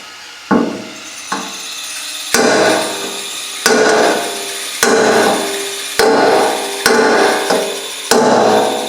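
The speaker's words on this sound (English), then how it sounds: "I'll back it up with this hammer." A hand hammer strikes a metal throttle rod on an 830 about nine times at an uneven pace, each close, loud blow ringing with a short metallic decay and no talking.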